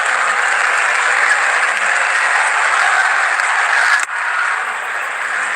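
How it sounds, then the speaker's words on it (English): Loud, steady roar of a large cricket crowd cheering at an India versus England T20 World Cup semi-final, a broad continuous wash of noise that dips briefly near the end and then carries on. "Big cheer from the crowd."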